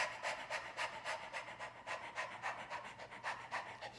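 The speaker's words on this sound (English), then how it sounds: "begin a panting dog breath across this stretched out tongue" A person does a rapid dog-like panting breath with the tongue stretched out, producing quick, even rhythmic huffs, about four per second, that are breathy and faint throughout.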